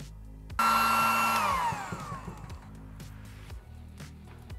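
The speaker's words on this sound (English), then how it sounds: "Do some heat shrink on this guy too." A heat gun blows a loud, steady hiss of hot air onto heat shrink tubing over a spliced wire while rigging a keyer for an Icom 705. It starts abruptly, holds for about a second, then its pitch falls as it winds down under faint handling noise.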